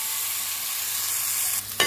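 Foxtail millet and badshabhog rice frying lightly in a pan with ginger, a steady soft broadband sizzle that brightens near the end with a brief stir or scrape, with no talking.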